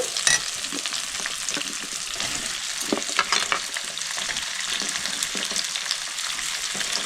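Onion stir-fried with chicken for chilli chicken over a high gas flame, a steady close sizzle and crackle of hot oil with intermittent scraping and stirring strokes throughout.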